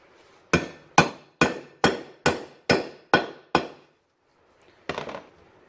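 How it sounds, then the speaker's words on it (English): Eight sharp, evenly spaced hammer blows drive a rod into the gearcase of a 1958 Johnson 10 HP outboard motor, each a crisp metallic knock with a short ring, then a pause and one softer final strike. "All I'm going to be doing is smacking it with my hammer."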